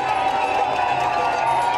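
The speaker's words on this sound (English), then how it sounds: "passionate crowd" A dense, passionate crowd at a street protest, cheering in a continuous loud roar without any clear breaks.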